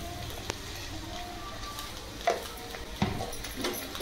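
Ginger garlic paste and onions stirred in a pan, a soft continuous scraping and faint sizzle with a few sharper clinks of the spoon against the pan near the middle and end.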